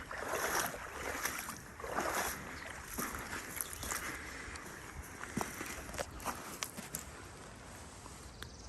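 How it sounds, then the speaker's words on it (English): Slow footsteps squelch and sink through soft creek silt, each step a dull, wet crunch repeating irregularly against a faint background of flowing water. "I'm literally sinking up to my ankles in this dirt. Makes it tougher to walk"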